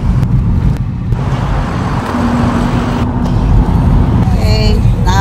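A car driving along a city street near San Francisco's Presidio, its steady low road and engine rumble continuous and close throughout, with traffic noise around it.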